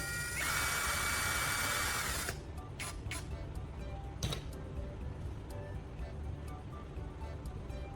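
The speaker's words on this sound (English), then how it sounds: "I removed the brush head and attached a screw to it, then secured it to my electric drill." An electric drill spins a toothbrush converted into a scrub brush with a screw through its base, giving a steady high whine for about two seconds before stopping. A faint rattly, clicky background with scattered ticks follows.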